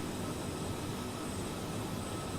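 Steady, even roar of the Rolls-Royce Trent 772 jet engines on an Aer Lingus Airbus A330 in Microsoft Flight Simulator, a constant broadband cabin drone with no change across the moment.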